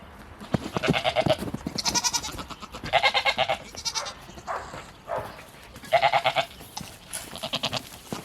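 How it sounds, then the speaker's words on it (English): Several goats bleat loudly and close by, one wavering cry after another in a steady series with short pauses between. "It looks like they're still maying at me for something"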